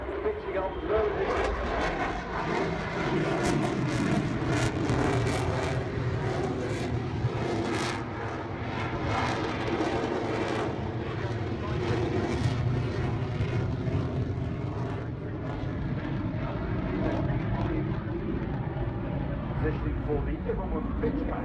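Hornet fighter jet flying a display at Farnborough Airshow, its engine roar loud and sustained as it pitches back toward the show line, with a commentator talking over it throughout.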